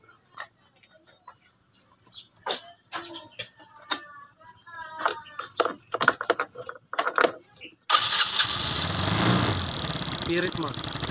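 Yamaha Mio Sporty scooter engine being started while checking a misfire at the high tension wire: clicks and clatter under talk, then the engine catches and runs loud and steady for the last few seconds.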